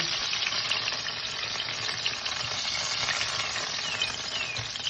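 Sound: cherry pies frying in a pan

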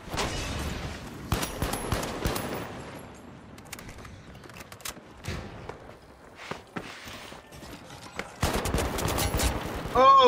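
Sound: Pike-556 gunfire in the video game The Finals

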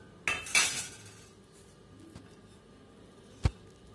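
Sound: spoon mixing spiced chicken pakora mixture in a bowl

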